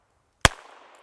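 A single gunshot from a Ruger New Bearcat .22LR revolver, a sharp, close crack that decays quickly into a short, faint echo, heard alone against silence.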